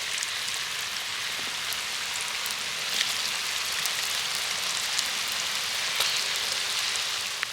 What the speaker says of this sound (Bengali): বাকি পিঠেগুলোও আমি একইভাবে ভেজে নেব তো একসাথে কিন্তু বেশ অনেকগুলো পিঠে ভেজে নেওয়া যাচ্ছে